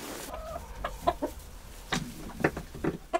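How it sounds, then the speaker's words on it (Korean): Chickens on a mountain farm at Gombaeryeong in South Korea give short, scattered clucks in the morning, fairly faint over a low background. "하영 씨는 매일 아침 닭들을 만납니다."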